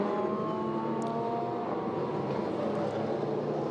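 A field of 30 race cars in four classes rolls away together on the formation lap of the 2017 6 Hours of Spa-Francorchamps, a steady, dense engine drone holding at even loudness throughout, with no voices.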